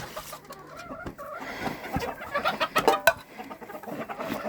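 Chickens cluck and chirp nearby in a busy coop on a cold spring day, with scattered rustling and a few sharp knocks mixed in.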